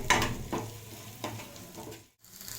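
Ingredients for majjige huli fry in a pan, giving a soft continuous sizzle with a few stirring scrapes and a brief silent break, heard close and alone.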